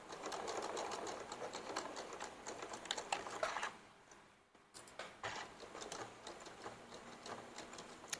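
A sewing machine stitches the corner of a fabric placemat in a fast, even mechanical patter. It pauses briefly, then resumes at a slightly lower level, close by with no talking.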